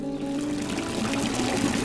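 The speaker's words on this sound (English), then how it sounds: "we just love the water, you know, the sound of waterfall" Water spilling steadily from a dolphin-themed garden fountain waterfall beside a wrought iron fence, a continuous close splashing pour with no voices.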